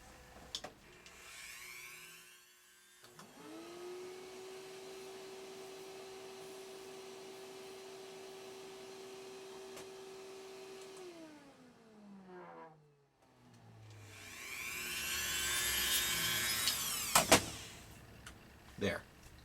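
A shop vacuum runs alongside an electric mandrel spinner grinding a cork: a steady motor whine hums for several seconds, stops, then a louder rushing grinding burst follows, with short clicks between.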